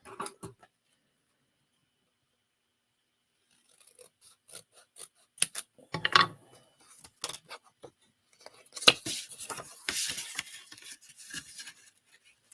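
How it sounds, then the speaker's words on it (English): Scissors snip through cardstock while cutting an angled double gatefold greeting card, after a quiet start, in close, crisp bursts of cuts and rustling paper. "then you're going to cut from this mark to that corner"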